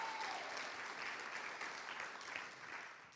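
Sustained, fairly quiet applause from a crowd at a public-schools meet-and-greet, dense even clapping with a brief whistle near the start and no talking over it.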